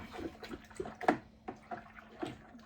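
Yeast being gently stirred into beer wort for a Brut IPA, soft close sloshing and gurgling swirls of liquid in a vessel, a few quiet strokes over a short moment with no voice.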